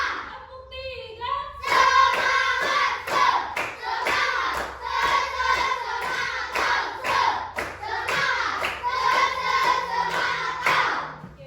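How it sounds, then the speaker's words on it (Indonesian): A primary school class plays a rhythmic clapping game, sharp hand claps landing in counted groups and patterns while children's voices chant along, loud and close in a classroom. "Tepuk satu, tepuk dua, tepuk tiga."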